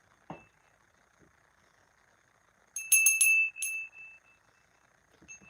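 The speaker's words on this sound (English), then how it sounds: "And I've got my bell." A small hand bell rings in a short bright burst of a few strikes, then a separate single ring follows, fairly close and otherwise quiet around it.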